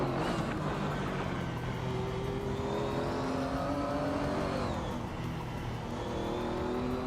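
A classic 1987 Porsche 959 racing at the Shanghai track in a video game, with a steady engine drone that holds and shifts pitch and stays prominent throughout, free of talk.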